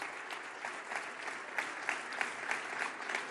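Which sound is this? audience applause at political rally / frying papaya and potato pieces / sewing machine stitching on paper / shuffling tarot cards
audience applause at political rally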